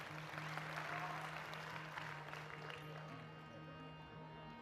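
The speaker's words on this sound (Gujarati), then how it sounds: "દલસુખભાઈને એકવાર જોરદાર તાળીઓથી બે હાથ ઊંચા કરીને જોરદાર તાળી વગાડો ભાઈ" Crowd applause for bhajan singer Dalsukhbhai Prajapati at a religious gathering, a dense, sustained clapping that holds steady and tapers slightly, with a droning harmonium-like tone underneath.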